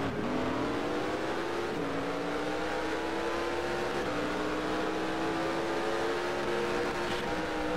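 V8 Supercar engine in the NR2003 racing game revving continuously at high pitch, with gear shifts marked by brief dips and climbs before the note holds steady and loud.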